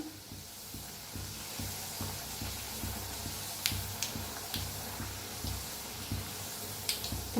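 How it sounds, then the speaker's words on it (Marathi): Tomato puris sizzling in hot oil, a steady low crackle of frying with small pops and drips throughout, close and moderately loud, no talking. "बघा कशी पुरी आपल्या वर यायला आल्या तळून"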